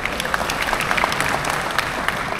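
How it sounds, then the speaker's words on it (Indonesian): Audience applause at a YouTube monetization presentation, a short burst of clapping that stays fairly even and close, with no speech on top. "Boleh kita berikan tepuk tangan?"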